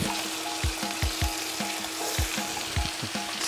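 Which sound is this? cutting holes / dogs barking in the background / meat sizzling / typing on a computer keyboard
meat sizzling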